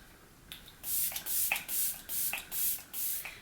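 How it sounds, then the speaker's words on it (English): Repeated bursts of e.l.f. Stay All Night Micro Fine Setting Mist sprayed onto a face at close range: about six short hissing spritzes in an uneven rhythm, clear and alone, with no talking. "I'm gonna spray my face using the e.l.f. Stay All Night Micro Fine Setting Mist."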